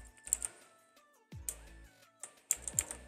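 Keys clatter on a computer keyboard in short bursts of quick taps separated by pauses, close and moderately loud over a faint tonal background.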